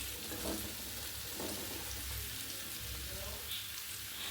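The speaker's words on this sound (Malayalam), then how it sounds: "വെളിച്ചെണ്ണയിൽ തന്നെയാണ് നമ്മൾ സവാള ഇട്ടിരിക്കുന്നത് കേട്ടോ" Sliced onion fries in coconut oil with a steady, fairly faint sizzling hiss and soft crackles, under quiet talk.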